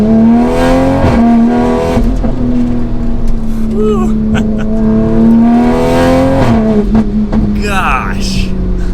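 A 600 WHP Toyota Supra wide body accelerating on the street, its engine drone climbing steadily in pitch with a gear change midway, loud from inside the cabin while someone talks over it.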